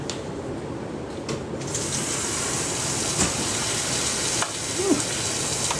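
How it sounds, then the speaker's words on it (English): Water from a sink tap rushes in a steady, fairly loud stream once the tap is turned on, running continuously with small splashes and no talking. "put this in the sink and turn the water on."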